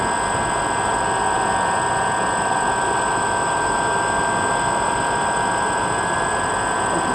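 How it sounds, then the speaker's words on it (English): A DJI Phantom drone sits idling outdoors, its motors giving a steady, loud, unbroken whine with a bright tonal hum, unchanging from start to finish with no voices. "let her sit there and idle for a couple of minutes, break them motors in"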